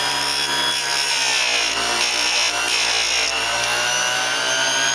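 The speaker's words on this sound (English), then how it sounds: "I'll just put it in the grinder and grind it." A mini bench grinder with a flexible shaft grinds a piece of scrap wood, a loud, continuous high whine with a rough rasping edge, close and steady throughout with no talk.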